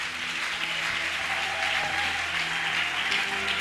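A church congregation applauds steadily and warmly throughout, a sustained wash of clapping with faint voices mixed in.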